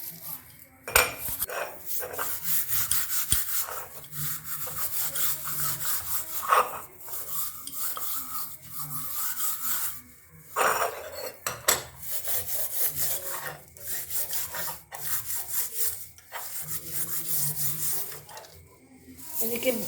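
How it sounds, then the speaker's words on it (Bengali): A gas stove burner is scrubbed hard with a wire mesh scourer: rough, rasping strokes in repeated bursts with short pauses and occasional metallic clinks, close and fairly loud. "এই তারের জাল দিয়ে ভালোভাবে এটাকে ঘষবেন।"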